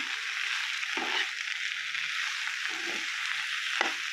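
Ridge gourd curry frying in a pan, a constant loud sizzle with a few soft stirring scrapes from a spatula, no talk.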